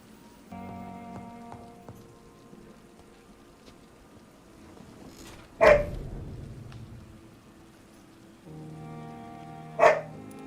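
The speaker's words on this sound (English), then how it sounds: "stop barking" A puppy barks indoors, two sharp, loud single barks about four seconds apart over a low, quiet background hum.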